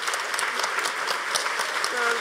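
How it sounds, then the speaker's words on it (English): Audience applause after a talk on climate justice and transformation, a dense steady wash of clapping from a room of listeners that carries evenly throughout, with faint voices and cheers mixed in near the end. "So a huge round of applause for you."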